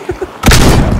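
A loud gunshot booms in the zombie survival game Project Zomboid, a sharp blast followed by a short rumbling tail, preceded by faint muffled sounds.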